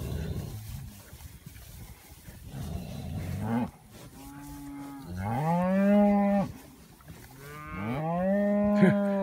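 Angus recipient cows at a cattle operation moo loudly and close up in two long, drawn-out calls after a stretch of quieter shuffling.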